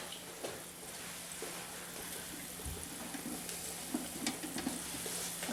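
Dough circles frying in a pan, a soft steady sizzle and crackle with occasional stirring clicks, fairly quiet and close, with no talking.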